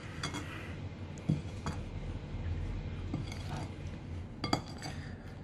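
Cherry pie filling stirred in a bowl, with a spoon clinking against the dish a few times over a soft, steady scraping; no one talks.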